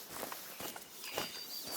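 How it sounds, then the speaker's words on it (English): Soft footsteps crunch through leaves and brush in a hunting video game, a few quiet paced steps set against a steady hiss of outdoor ambience. "I heard those footsteps."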